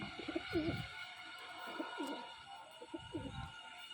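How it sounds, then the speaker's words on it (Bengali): Soft, low coos of Dragon Face Fulsira pigeons repeat in a steady rhythm, several calls close by over a faint constant background hum. "খুবই সুন্দর পায়রা এই দুটো খুবই ভালো জোড়া"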